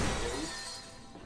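A plate shatters in the survival horror video game Resident Evil Revelations 2, a loud, close crash of breaking ceramic that fades quickly into a brief scattering tail.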